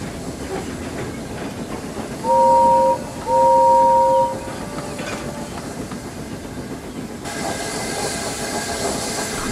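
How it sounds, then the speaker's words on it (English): A steam engine pulling a train rolls along with a steady rumble and hiss, interrupted by two loud whistle blasts, with the noise growing rougher toward the end. "Gordon puffed away with his special train"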